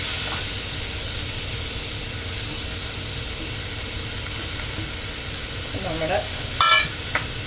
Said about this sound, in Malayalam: അപ്പം നമ്മുടെ ഉള്ളി ഇട്ട് നമുക്ക് ഇതൊന്ന് വഴറ്റിയെടുക്കാം.